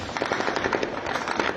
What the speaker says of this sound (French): On y voit d'impressionnants échanges de coups de feu pendant 30 longues secondes.